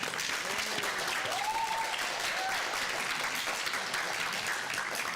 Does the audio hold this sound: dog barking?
no